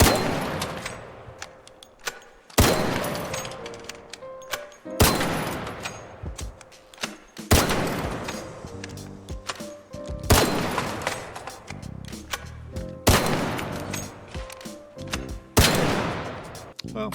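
Repeated bursts of gunfire from an Arc Raiders weapon fitted with the Kinetic Converter mod, seven loud evenly spaced volleys of sharp shots each followed by ringing decay, with no voices.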